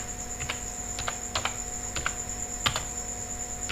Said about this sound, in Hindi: कैप्स लॉक ऑन करके लिखते हैं